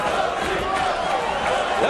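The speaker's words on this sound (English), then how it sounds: "Crowd, not the biggest crowd in the world, but loud" Loud, spirited boxing crowd at the Vic Darchinyan vs Luis Maldonado fight, a dense, continuous roar of cheering and shouting that holds steady throughout.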